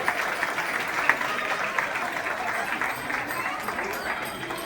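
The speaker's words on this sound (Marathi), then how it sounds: "सगळ्यांनी एकदा टाळ्या वाजवा छान स्वतःसाठी" An audience claps together at a children's event in a bal bhavan hall, a dense, steady wash of applause lasting the whole moment with a few sharper individual claps and faint crowd murmur beneath.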